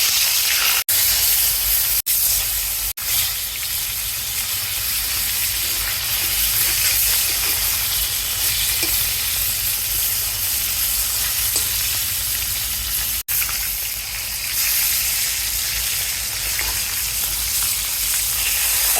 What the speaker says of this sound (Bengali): প্রথমে কড়াইতে তেল দিয়ে দিলাম, মাছগুলি এক এক করে ভেজে নেব।